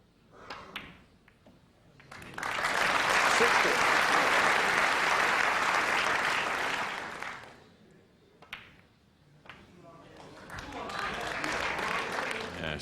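A snooker crowd at the 1994 World Championship quarter-final bursts into sustained applause for Jimmy White, swelling loud for several seconds, fading, then rising again after a few scattered claps.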